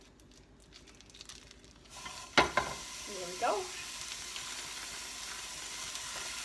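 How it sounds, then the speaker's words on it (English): One and a half pounds of 7% fat hamburger meat drops into a frying pan with a sharp clatter, then settles into a steady, soft sizzle alongside brief stirring scrapes; a voice speaks briefly. "And I'm going to put that in the frying pan."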